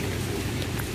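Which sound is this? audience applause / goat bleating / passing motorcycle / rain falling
rain falling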